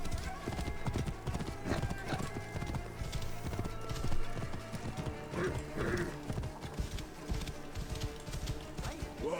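Horse hooves clip-clop in a video game, a quick uneven trot of hoofbeats close by with a whinny partway through, under game sounds and a voice talking.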